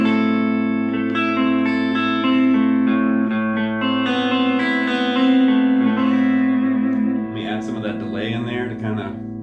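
Electric guitar played through a portable mini amp on its clean channel, EQ set flat, ringing sustained chords and picked notes, close and loud with light effects.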